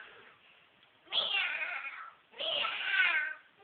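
A person imitates a cat with two drawn-out meows, each lasting about a second and separated by a short pause, voiced close and clear.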